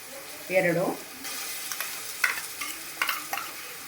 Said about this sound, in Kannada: ಈ ಟೈಮ್ದಲ್ಲಿ ನಾನು ಶುಂಠಿ ಬೆಳ್ಳುಳ್ಳಿ ಪೇಸ್ಟ್ ಹಾಕ್ತಾಯಿದ್ದೀನಿ.